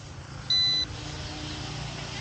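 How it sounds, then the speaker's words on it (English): A single short electronic beep from an RC helicopter transmitter, as its return-to-home switch is activated, sounds close by, high-pitched and steady, over a quiet background hum. "activate the return to home switch on the transmitter and the transmitter will start beeping"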